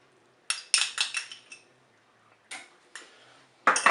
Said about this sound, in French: On mélange également.